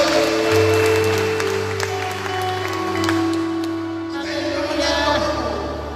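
A church congregation claps during a worship service, the applause under sustained music with strong low tones. The clapping is moderate and blends into the music, easing off toward the end.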